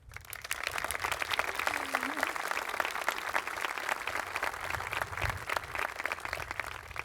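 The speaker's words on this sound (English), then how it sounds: "join me now in a round of applause" A large audience at a high school graduation ceremony gives a sustained round of applause, a dense, even wash of clapping that stays fairly distant and steady.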